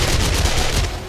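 Gunfire in the zombie survival video game 7 Days to Die comes as a quick, loud burst of rapid shots pounding close by, all within about a second.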